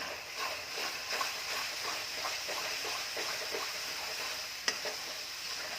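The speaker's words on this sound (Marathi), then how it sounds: "वाटण चांगलं परतून घ्यायचं आहे पेस्ट घालून घेत आहे" A ginger, garlic, coconut and coriander paste fries in a pan for chole masala, giving a steady close sizzle with repeated scraping stirs and one sharp clack near the end.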